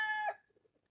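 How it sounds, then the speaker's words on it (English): A chicken lets out a short, loud crowing call that breaks off sharply, followed by a few faint, soft clucks. "That's right, chicken."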